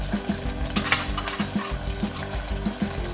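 Spices being stirred into simmering matar paneer in a single pot, with a spoon scraping and clinking against the pot in a steady repeated rhythm over a low bubbling background.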